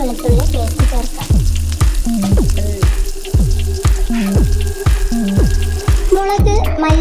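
Onions sautéing in a pan with ginger garlic paste, a steady close sizzle broken by regular scraping strokes of a stirring spoon.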